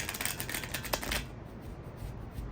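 A deck of cards being riffle-shuffled close by on a beach, a rapid fluttering burst that stops about halfway, leaving quiet handling noise.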